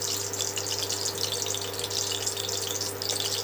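Whole spices sizzle in hot white oil in a wok as dal with bottle gourd is cooked, giving a steady, close, hissing crackle that runs throughout without talk.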